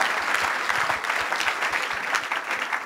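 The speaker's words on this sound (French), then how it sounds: "On acclame la parole de Dieu" A church congregation claps in a dense, sustained burst of applause that stays loud and even throughout, with no voices standing out.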